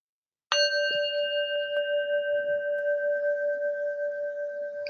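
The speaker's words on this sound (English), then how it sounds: "We're going to start off with our bell taps." A single meditation bell is struck once after a brief silence, ringing out with a clear bright tone that sustains and slowly decays over several seconds.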